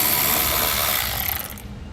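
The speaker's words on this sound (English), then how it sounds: "we're going to remove the screw here with a 7mm socket on both sides" Ratcheting clicks from a 7mm socket wrench backing out a screw at the bottom outside corner of a 2017 Jeep Cherokee during a Curt trailer hitch install, close and steady for most of the moment, then easing off.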